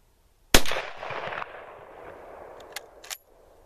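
A single loud, sharp Mauser K98 rifle shot, likely in a video game, with a crack followed by a long echoing decay and a few faint metallic clicks afterward, no voices.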